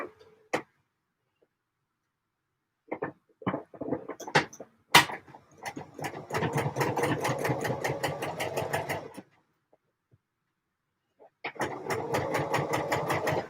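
A sewing machine stitches up an armhole in two sustained runs of fast, even mechanical chatter, preceded by a few scattered clicks and handling knocks in a quiet room.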